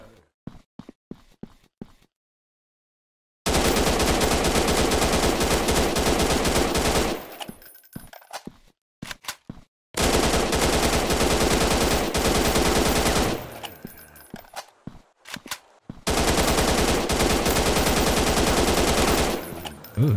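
Automatic gunfire in the low-poly zombie survival game Zombie Town, in three long sustained bursts of rapid shots separated by short pauses and a few scattered single shots, loud and dense.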